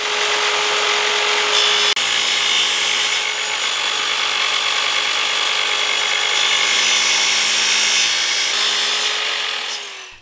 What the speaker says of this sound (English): We cut the edges using a cross-cut chop saw to start the basic shape